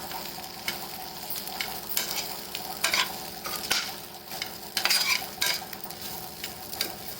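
Bitter gourd and peanuts cook as a dry stir-fry in a covered pan, giving a steady close sizzle with bursts of stirring and scraping, no voices.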